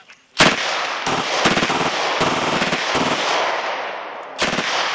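A Glock 18 machine pistol fires several rapid, loud full-auto bursts at close range, separated by short pauses.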